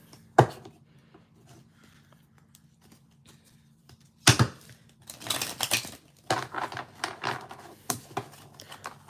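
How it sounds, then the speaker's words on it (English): Crisp riffling and slapping bursts of tarot cards being shuffled, a sharp snap early, then a longer run of rapid shuffling, close and moderately loud with no talk. "Let's take a shuffle."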